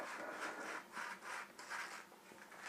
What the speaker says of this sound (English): I've just soaked this in white spirit, and I should be using gloves, but just a quick thing. So just scrub this all around.